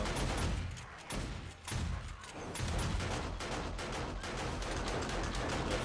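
Video-game gunfire from Dragon's Fire incendiary rounds during a horde night, a dense continuous crackle of rapid shots with brief dips, fairly loud and steady throughout.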